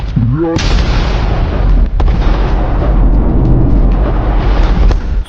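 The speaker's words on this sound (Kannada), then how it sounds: "ಸೋಡಿಯಂ ಮೆಟಲ್ ಬಳಸಿ ಕೃಷಿ ಹೊಂಡದಲ್ಲಿ ನಡೆಸಿದ ಸ್ಫೋಟದ ಪ್ರಕರಣದ ಆರೋಪದಡಿ" Half a kilogram of sodium metal dropped into a farm pond near Kalaburagi sets off a loud, sudden blast. A brief voice comes just before it, and a sustained, roaring wash of noise follows close by.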